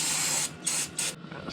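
An aerosol spray can blasts sawdust off a freshly cut piece of wood in close hissing bursts: one long spray, then two shorter ones, with no talking.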